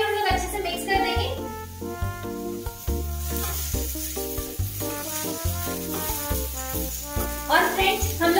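Tomatoes added to crispy potatoes in a pan, with continuous sizzling and repeated scraping, stirring knocks up close.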